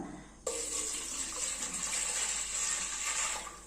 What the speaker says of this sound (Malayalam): ഇനി നമ്മൾ ഇതിലേക്ക് ചേർത്ത് കൊടുക്കുന്നത് ഒരു കപ്പ് വെള്ളമാണ്